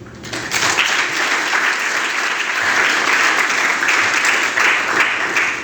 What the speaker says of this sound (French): C'est un effort qu'il faudrait applaudir